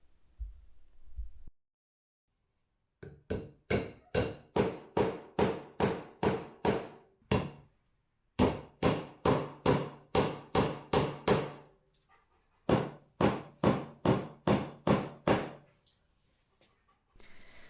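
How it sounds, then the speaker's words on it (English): Steady hammer blows driving glued wooden dowels into drilled holes while building a coffee table, three rapid runs of about eight strikes each, sharp and close, separated by short pauses. "putting some glue in the holes I drilled and hammering in the dowels"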